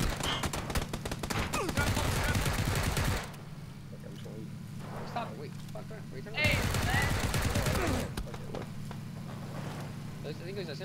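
Video game gunfire rattles in two long, loud automatic bursts with a quieter stretch between them, while players talk over the shooting.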